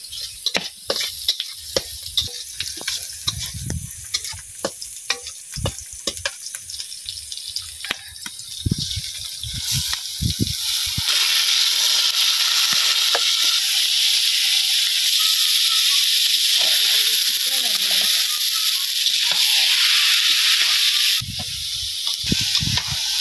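Onion with turmeric and dried chilli sizzling in a pan, broad steady frying hiss that grows stronger midway, broken by clattering scrapes and stirring knocks, with no talk.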